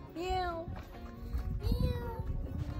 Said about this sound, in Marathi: ग्रीसमधली मांजरं पण आपल्यासारखीच आहे.